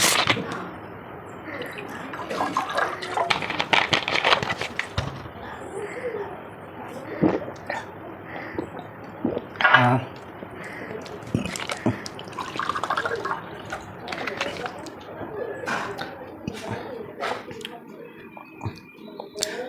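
Cold soft drink is poured into a glass up close in intermittent splashy, trickling bursts, with clinks and handling noises between pours and a soft fizz.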